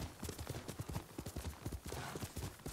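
Horse hooves clip-clopping in Ghost of Tsushima on PS4, a quick, steady rhythmic trotting beat of many close, moderately loud hoof strikes with no voices.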